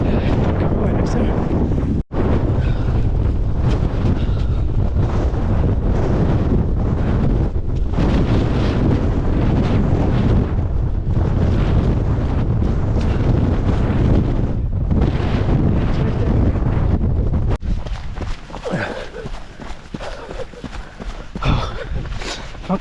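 Strong wind roars and buffets the microphone during a fell race, loud gusty rumble that drops away sharply near the end, leaving quieter footsteps and ambient noise.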